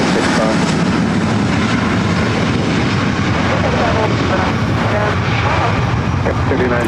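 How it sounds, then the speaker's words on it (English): A Delta Connection CRJ 700 ER regional jet taking off at LAX, its engines a loud, continuous broadband roar filling the whole stretch without letup. "3704 taking off to Aspen, Colorado on the CRJ 700 ER."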